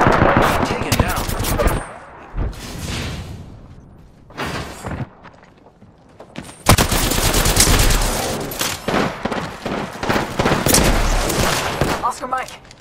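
Bursts of automatic gunfire from a PC shooter game, loud and dense, broken by brief quieter gaps, with game voices heard amid the firing.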